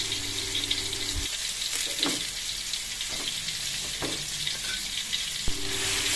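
Pounded spice paste hits boiling oil in a home kitchen and crackles in a steady, close sizzle, with a few sharp scrapes and taps of stirring and no voices.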